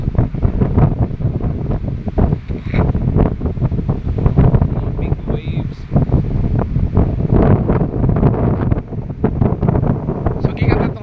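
Loud, constant wind buffeting the microphone over the roar of big ocean waves along a seaside boulevard in Amlan, Negros Oriental, Philippines, with a voice speaking intermittently underneath.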